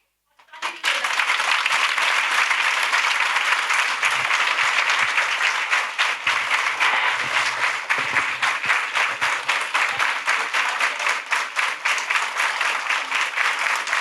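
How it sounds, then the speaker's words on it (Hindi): An audience of teachers at an interactive session applauds, the clapping beginning abruptly and holding steady and dense for the whole stretch, close and loud, with a few voices mixed faintly underneath. "और ताली भी बजाएंगे."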